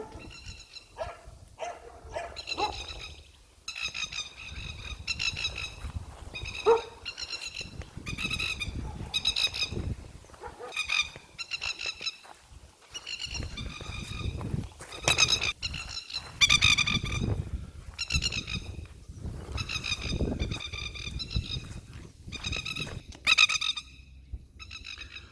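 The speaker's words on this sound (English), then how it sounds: "Ah, that horrid sound of plovers." Plovers in a garden call in repeated sharp, shrill bursts, loud and fairly close, in irregular clusters over a steady outdoor background, with some lower barking-like sounds mixed among them.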